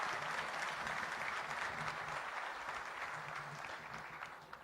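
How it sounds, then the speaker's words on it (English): A crowd applauds steadily at an investment summit, many hands clapping in a dense wash that slowly fades a little toward the end. "Could we please have a round of applause for them?"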